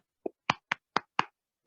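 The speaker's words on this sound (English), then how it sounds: "Clap for yourself." Students clapping hands in a class, five sharp separate claps at a quick, slightly uneven pace, close and faint against silence.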